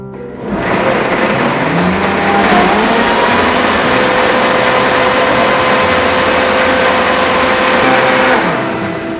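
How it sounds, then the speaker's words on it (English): Blender running on black beans, eggs and vanilla for chocolate cupcakes, a loud steady motor whir that starts abruptly, holds an even pitch with slight shifts as the mix churns, then winds down at the end. "everything's in the blender now, just the black beans, the eggs, and the vanilla"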